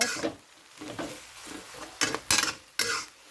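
Pork stir-fried with holy basil and a splash of dark soy sauce in a pan, heard as soft scraping stirs with a faint sizzle, then three sharp, loud clanks of a utensil against the pan near the end.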